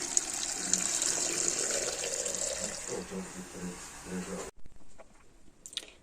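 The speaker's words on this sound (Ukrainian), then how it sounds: "зараз заливаємо." Boiling water being poured from a kettle into glass jars for canning tomatoes, a close gurgling, splashing stream that falters and stops, followed by a short quiet with faint clinks.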